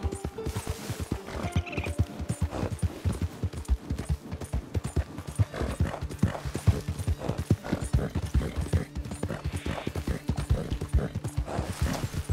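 Rapid, rhythmic clip-clop of horse hooves trotting on a hard surface in Red Dead Redemption 2 Online, steady and close, with brief tonal game sounds in the background.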